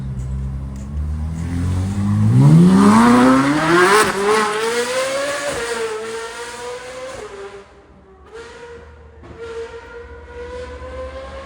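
A loud Liberty Walk supercar engine revs up with a rising whine, then settles into a lower rumble that fades and surges again.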